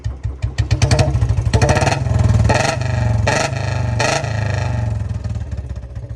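Royal Enfield Bullet motorcycle engine fitted with a black CDI, running loud and close with a heavy, thumping low idle that rises into several revs and falls back to a rhythmic beat.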